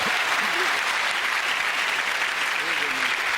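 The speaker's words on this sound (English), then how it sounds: "Give them all a round of applause" Studio audience of a British comedy panel show applauding, a thick, even roar of clapping filling the whole stretch, loud and sustained, with a host's voice faintly mixed in beneath.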